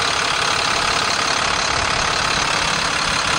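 A clean, low-hour truck engine idling with the hood open, a steady, close mid-range drone with a faint knocking rhythm and no talk over it.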